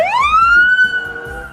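A toy police patrol car's siren wails, sweeping upward and then holding a steady electronic tone, loud and close with no talk over it.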